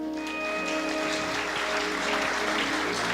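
Congregation applauding during a church service, a steady dense wash of clapping sustained throughout, with a faint sustained musical tone underneath.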